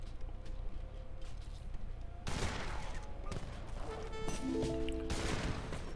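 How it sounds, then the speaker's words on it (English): Heavy cannons and massed gunfire in an Age of Empires III match crackle in bursts of sharp volleys, with dense battle noise swelling midway and some brief tonal game effects. "Now sending in the heavy cannons just for good measure."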